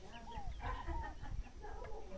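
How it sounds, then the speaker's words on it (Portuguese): Birds chirp and warble outside a rural house, among them a chicken-like fowl clucking nearby. The calls are moderate and overlap continuously against a soft outdoor background. "Os passarinhos cantando,"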